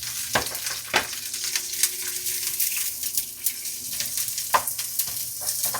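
Garlic, onion and tomato sizzling in a hot pan as they are sautéed, a steady frying hiss punctuated by sharp clinks and scrapes of a utensil against the pan, with no talking.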